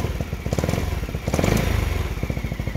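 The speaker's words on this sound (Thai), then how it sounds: "ฟังเสียงเครื่องกันก็ค่อนข้างจะไม่มีเสียงแคมดังเลยนะครับเงียบกริบเลย" A Honda Forza 350 scooter with an aftermarket exhaust idles close by, its engine giving a steady, rapid low pulsing chug with light mechanical clatter and no voices.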